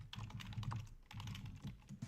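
Quick bursts of computer keyboard typing, fairly faint and close, in two runs of clicks with a short pause between them and no talk.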